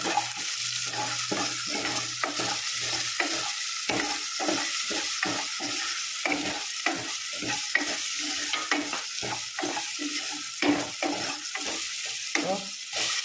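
Onions and tomatoes with salt sauté in a pan for Kumbakonam Kadappa, giving a continuous soft sizzle with frequent rhythmic stirring scrapes throughout, moderately close and without voices.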